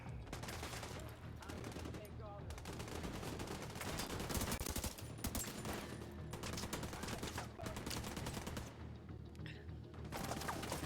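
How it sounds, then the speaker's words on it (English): Mounted machine gun firing in a shooter video game, dense rattling bursts that run almost without pause, with heavy thumps and booms mixed in. "Is that guy on a machine gun mount?"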